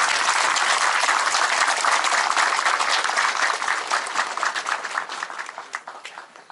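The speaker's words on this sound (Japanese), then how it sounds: "皆様どうか盛大な拍手をお願いいたします。" Loud, dense applause fills the hall at a ceremony dedicating a newly built festival yagura float, then thins into scattered claps as it fades toward the end.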